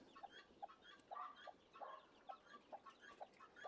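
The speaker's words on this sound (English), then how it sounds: "This is a Creole hen with chicks." A Creole hen with chicks clucks softly on a homestead, a regular string of short, faint clucks with thin peeping between them, heard from a little distance with no talk.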